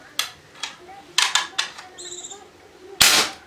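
A modified PCP air rifle fires a series of sharp, dry cracks spaced unevenly, with its power running low, and a final much louder blast stands out near the end.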